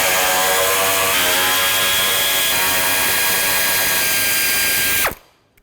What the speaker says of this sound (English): there are 4 10mm screws along the top that I'm going to take out